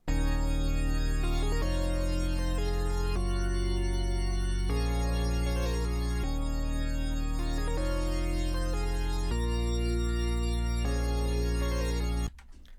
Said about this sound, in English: I then have a sub made in Serum, a sub which sounds like this.